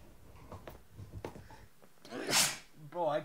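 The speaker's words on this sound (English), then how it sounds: "I keep sneezing," Someone talks briefly in a dusty room, then lets out one sharp, loud sneeze with a short breathy follow-up at the end.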